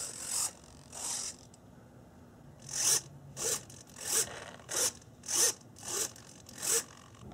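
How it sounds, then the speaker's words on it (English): Servos on a 38-inch Skywing Laser 260 RC airplane drive the ailerons back and forth, giving a series of short, buzzing whirs in a steady rhythm, close and fairly quiet, with no talking. "Here's the travel on the ailerons."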